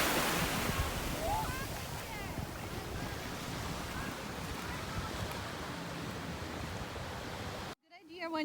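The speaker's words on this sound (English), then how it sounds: "this is the beach" Surf rolling onto a wide Punta Cana beach in the Dominican Republic, with steady wind buffeting the microphone in a continuous loud wash that cuts off abruptly near the end, where a brief voice is heard.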